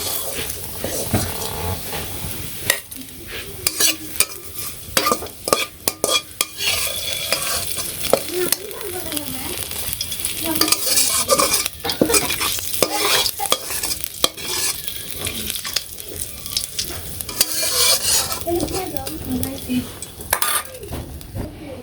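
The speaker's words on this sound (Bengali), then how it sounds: "তো এই যে পেঁয়াজগুলো বেরেস্তা করে নিলাম" Onions fry in oil in a village-style pan, a loud continuous sizzle broken by frequent clattering scrapes and knocks of a utensil stirring against the metal, close and busy throughout.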